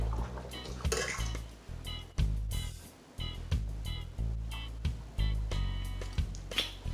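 A pot of pig trotters being stirred as granulated garlic goes in, with a spoon knocking and scraping against the pot in an irregular series of close clatters and a wet, sloshing undertone.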